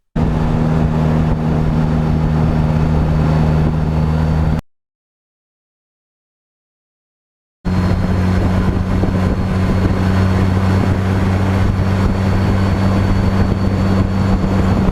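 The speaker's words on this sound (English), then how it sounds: "There's far less wind in the cabin with the +5." Steady roaring wind rushes through the open cabin of a moving Polaris Slingshot fitted with a +5 windshield, a loud constant drone with low engine hum beneath it, cut by a few seconds of silence partway through.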